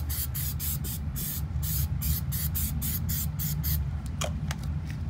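A spray bottle of tar and sap remover is pumped again and again onto a car in quick, sharp hissing bursts, close up, over a low steady background hum.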